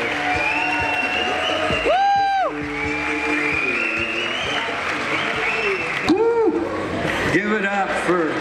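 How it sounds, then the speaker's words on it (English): A crowd at the 2019 Emerald Cup awards gives a big round of applause as Bob Snodgrass comes on stage, with sustained clapping under loud whoops and shouting voices. "give him a big round of applause"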